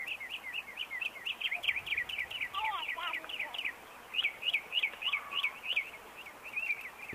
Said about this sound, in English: so that's a mockingbird